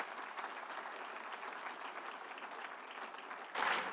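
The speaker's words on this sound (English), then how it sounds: "Could you please have a round of applause for our stewards?" Applause from a conference audience in Southport, a fairly quiet, steady patter of many hands throughout, with a louder burst of noise near the end.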